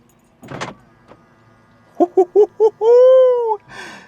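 A BMW's lock chirps as the key fob lock button is pressed: four quick horn beeps followed by a longer tone, with a faint whir of motors in between.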